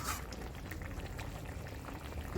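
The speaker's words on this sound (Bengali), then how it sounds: "তো আমার ঝোলটা দেখো ফুটে গেছে।" Curry broth boils in a pot with a soft, steady bubbling that stays low and even throughout, with no voices.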